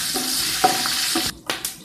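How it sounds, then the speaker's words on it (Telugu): Whole garam masala spices sizzle in hot ghee in a pan, a close, steady crackling hiss with a few brief breaks and bursts as they are stirred. "చూడండి, హోల్ గరం మసాలా వేస్తున్నా"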